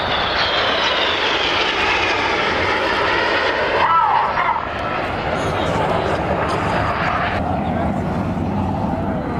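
An aerobatic display jet of the Red Arrows-style team roars overhead at the Southport Airshow 2015, a loud sustained engine rush that sweeps past with a slight pitch shift and no talk.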